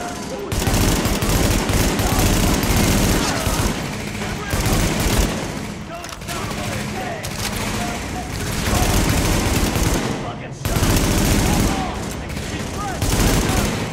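Big-gun gunfire in the video game Tom Clancy's The Division: loud, dense bursts of rapid shots in repeated volleys with brief breaks, close and sustained, with some voices mixed in.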